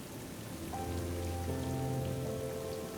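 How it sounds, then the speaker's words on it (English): Heavy rain falls without pause on the rocks of a small mountain ledge, a dense, steady hiss of drops that stays even and close throughout. "It really didn't stop raining at all."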